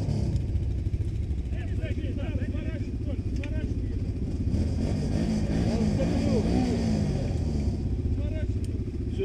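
A quad bike engine revs and labors during a winch recovery in rough ground, a steady close drone with throttle surges, under voices and background noise.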